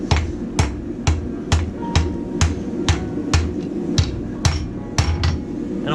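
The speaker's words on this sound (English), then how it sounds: "I want to hammer in on the steel to try and move it" Hammer blows forging a steel dog paw hook ring out in a steady rhythm, about a dozen sharp metallic strikes close by, evenly spaced with a low hum between them.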